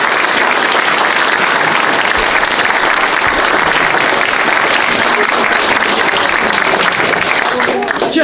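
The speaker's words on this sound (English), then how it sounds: "can we all give a round of applause?" An audience applauds at the end of a talk on Lyme and other tick-borne diseases in Wisconsin, a loud, steady, dense clapping that fills the room and holds for several seconds.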